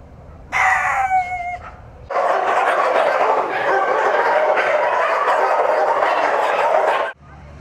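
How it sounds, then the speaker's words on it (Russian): Many dogs at an animal shelter bark in a dense, continuous chorus behind a fence, loud and unbroken for several seconds after a brief sharper call at the start. "Шум от собак преследует жителей с весны."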